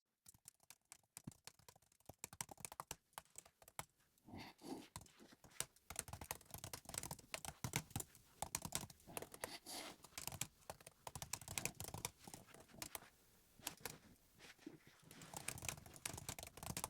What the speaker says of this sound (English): I'm just going to type some myself.